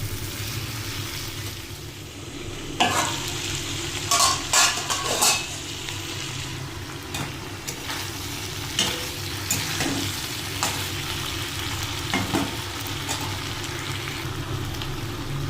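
Ginger paste frying in oil in a pan for a vegetarian mixed-vegetable curry, a steady low sizzle running throughout with a few sharper scraping stirs near the start and middle, no talking.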